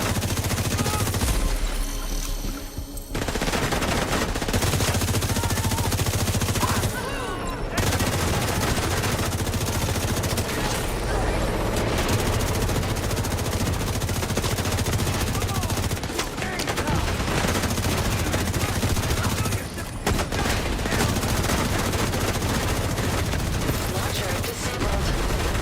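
Marauder gunfire in The Division during a fight for the Brooklyn pier, heavy sustained machine-gun bursts and explosions over dense battle noise, with voices talking at times.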